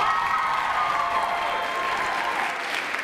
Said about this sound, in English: Let's give these ladies one more round of applause.